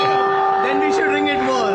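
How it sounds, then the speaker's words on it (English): A ceremonial bell rings at a stock market event, a steady sustained metallic tone with overtones that rings on through the whole moment amid a busy background. "if you ring bell harder and many times"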